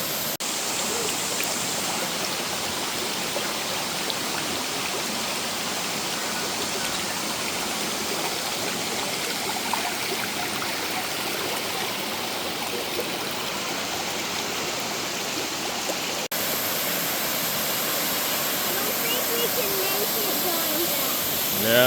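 Continuous rushing roar of Cascade Falls in Jefferson National Forest, Virginia, steady and broadband, with faint voices now and then beneath it.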